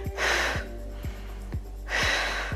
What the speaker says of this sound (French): vous entendez ma respiration? Elle est assez bruyante